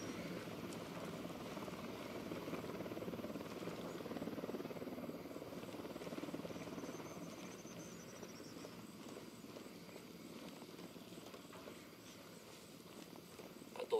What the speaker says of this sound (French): On a un hélico en approche.